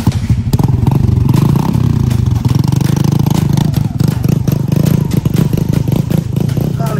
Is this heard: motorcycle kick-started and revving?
yes